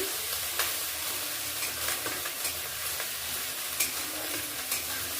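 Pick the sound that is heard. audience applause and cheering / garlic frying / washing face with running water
garlic frying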